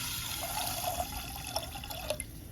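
Water poured into a pan while cooking moong dal and greens, a soft trickling, dripping flow, close and fairly quiet over a steady kitchen background.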